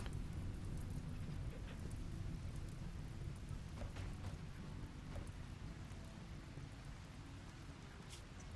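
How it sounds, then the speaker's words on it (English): Steady heavy rain with rumbling thunder in the RimWorld video game, a dense continuous hiss with low rumble throughout, loud and unbroken, no talking. "Oh, it's raining"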